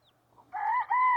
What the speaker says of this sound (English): the rooster is a red laced Wyandotte